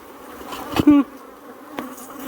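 Africanized bees give a short, close buzz that swells briefly. Faint fainter buzzing and quiet background surrounds it.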